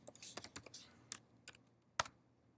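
A computer keyboard clicks nearby as a short folder name is typed, a handful of separate keystrokes spaced unevenly, ending in one sharper final tap in a quiet room.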